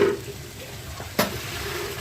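Potatoes dropped into hot oil with cumin in a pan, a steady gentle sizzle with one brief sharp splash of hissing midway, no talk.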